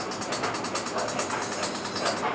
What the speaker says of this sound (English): I do have a flying Yankee here. Let's fire up some trains.